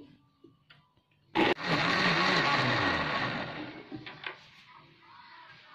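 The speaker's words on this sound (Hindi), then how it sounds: "अब इसको एक दफ़ा ब्लेंड कर लेते हैं।" A kitchen blender grinds salt, black salt, amchur powder, coriander powder and a tablespoon of sugar as a base for green chutney. It kicks in abruptly with a loud, steady whirr for about three seconds, then winds down.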